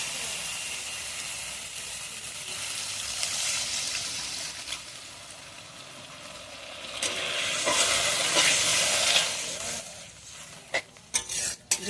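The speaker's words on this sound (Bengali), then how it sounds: "এবার জল দিয়ে দেবো।" Water poured onto a sizzling fried spice masala for a fish curry: a sustained loud hiss and bubbling that swells midway, followed by a few sharp clatters near the end, with no speech.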